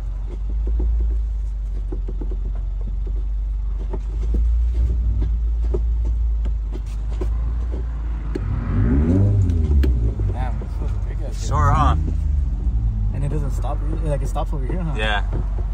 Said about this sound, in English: I'm gonna go ahead and do a test drive